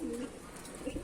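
Pigeons coo in low, repeated murmurs while feeding on scattered grain, a soft steady call near the start and again toward the end over faint background rustle.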